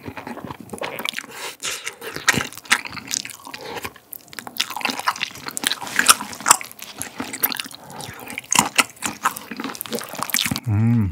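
Close-up chewing and biting of sausage, tteokbokki rice cakes and spaghetti in a Korean mukbang meal, with soft wet mouth sounds and small crunches repeating steadily throughout, alone without talk.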